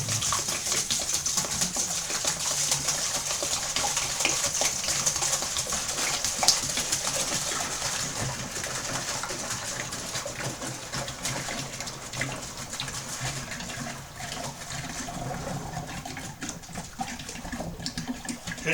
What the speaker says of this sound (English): Now that splashing is good for it because it aerates it.